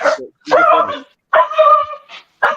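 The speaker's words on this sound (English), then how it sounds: "somebody's killing a dog" A dog barks and yelps in loud, close, strained bursts, four or five separated cries with short silences between them, heard alone without talk.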